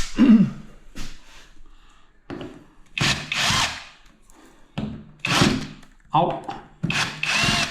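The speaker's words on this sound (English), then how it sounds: "So how we go about it is we'll take the screws out like that." A power drill backs screws out of a DIY door, whirring in several short bursts separated by pauses, close and fairly loud, with someone talking between the bursts.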